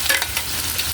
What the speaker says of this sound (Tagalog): Ilagay na natin yung patatas.